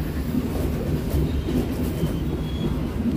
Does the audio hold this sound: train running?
yes